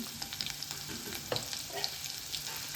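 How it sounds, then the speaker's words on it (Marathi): Garlic sizzles and fries in hot oil in a pan with turmeric, crackling steadily close up, with light scraping clicks as a spoon stirs it through the fat. "लसण कुरकुरीत होईपर्यंत परतून घ्यायचं आहे"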